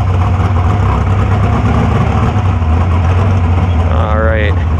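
A dragster race car idles at a drag strip in Eddyville after warming up, a loud, steady, deep engine drone heard from inside the cockpit, with a brief rising whine near the end.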